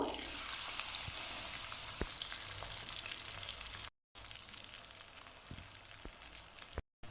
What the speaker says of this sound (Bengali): তেলটা গরম হয়ে গিয়েছে এখন পেঁয়াজ দিয়ে দেব